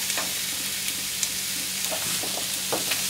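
Carrots, onions, shiitake mushrooms and bamboo shoots stir-frying in a hot pan, a continuous close sizzle with soft scraping clicks of stirring, no voices.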